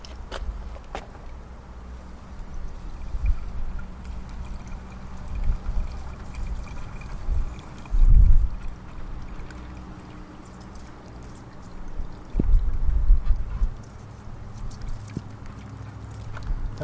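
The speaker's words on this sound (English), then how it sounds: "Okay, so now I'll wash the pan out." Water sloshes and pours while a gold pan is rinsed out after running material through a sluice, a steady outdoor wash with a few louder splashes and gushes along the way.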